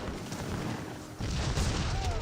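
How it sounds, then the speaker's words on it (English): Grenades going off in a battle in Age of Empires 3: a muffled rumbling boom that swells suddenly midway and sustains amid crackling battle noise, with no clear talk. "A number of grenades has been thrown there."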